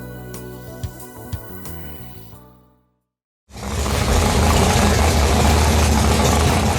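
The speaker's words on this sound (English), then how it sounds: "that sweet sound of an engine that is ready to race" Music fades into a short silence, then a race car engine starts loudly and idles with a deep, steady, rumbling roar.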